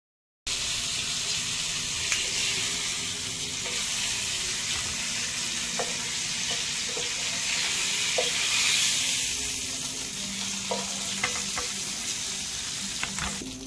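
Prawns frying in hot oil in a pan give a steady, close sizzle that runs the whole time, broken by a few faint clicks and stirring scrapes.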